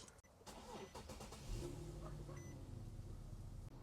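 An Infiniti G37 engine idles steadily while warming up. A close, even low hum settles in after a few brief knocks at the start.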